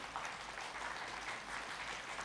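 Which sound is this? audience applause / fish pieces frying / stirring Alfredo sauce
audience applause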